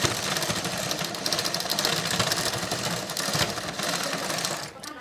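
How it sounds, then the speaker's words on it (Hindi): Sewing machine stitching a blouse back neck design, running as a steady, close mechanical whir with fast even needle clatter that goes on without a break for about five seconds before easing off at the end. "इस साइड से इस तरह से रखकर हम सिलाई लगाएंगे"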